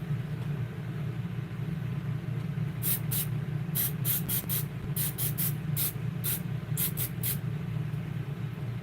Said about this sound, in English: Point nozzle, shake well, spray can about 6 inches away.